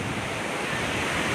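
Ocean surf rolling in at Suryalanka beach, a close, dense wash of breaking waves mixed with wind noise across the microphone, steady and loud with no voices.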